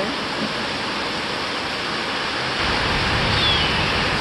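Heavy hurricane rain falling, a dense steady hiss of downpour close by that swells slightly louder toward the end, with no voices.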